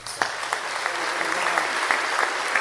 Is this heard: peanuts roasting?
no